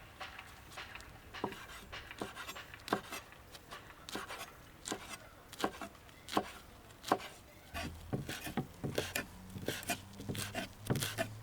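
A knife finely chopping basil taps rapidly against a cutting board in quick, irregular bursts of close, crisp chops, with a low hum joining in toward the end.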